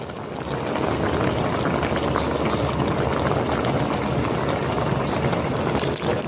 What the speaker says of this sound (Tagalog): Nilagyan ko na rin po ng suka. Papakuluan ko na lang po.